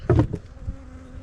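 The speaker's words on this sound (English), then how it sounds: "There's a bee coming to check my camera" A bee flies close past a camera beside a bee castle nest box, giving a short, loud buzzing burst that fades into a faint lingering hum.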